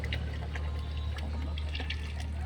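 Used engine oil draining from the oil pan of a Yamaha 600 motorcycle, a steady soft pouring trickle over low background hum, continuous and close.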